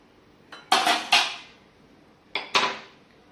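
A metal pan for frying puri is set down on a gas stove, giving two pairs of sharp metallic clanks, each ringing out briefly in an otherwise quiet kitchen.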